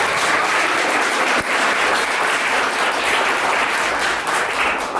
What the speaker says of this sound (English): Give a warm round of applause for WordSeed for putting this together